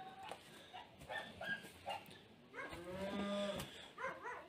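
Bulls tethered on a small farm plot, lowing in drawn-out moos that swell toward the end, with a few short dog-like yelps mixed in, moderately close against outdoor background.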